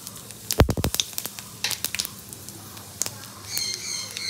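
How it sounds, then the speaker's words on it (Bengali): Dried red chilies tempered in hot oil in a kitchen: sharp crackles and pops burst early, then scattered sizzling spits settle into a soft steady fry. "ফোড়নটাকে একটু ভালো করে ভেজে নেবো"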